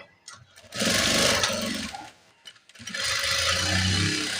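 Sewing machine stitching nurse uniform pants, running in two steady bursts of rapid mechanical whirring with a brief pause between them, loud and close.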